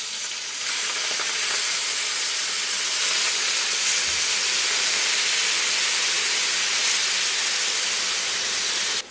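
Water poured around the edge of a hot pan of frying youtiao dough sets off a loud, continuous steaming hiss and sizzle that swells quickly and holds steady for several seconds.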